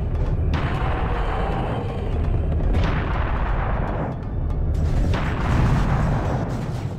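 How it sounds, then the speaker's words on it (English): A cannon fires in the first-person shooter Serious Sam: The Second Encounter, three heavy booming blasts a couple of seconds apart, each with a long rumbling tail over constant loud low-end game noise. "I will use the cannon against the clear and the werewolf"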